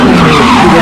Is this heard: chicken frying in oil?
no